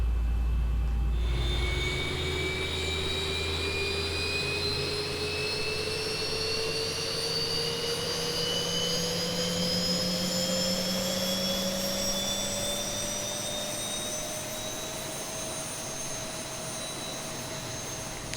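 Boeing 737 engine number 2 spooling up during start in X-Plane 11, a steady jet whine rising slowly in pitch over a low rumble, loud and continuous with no talk.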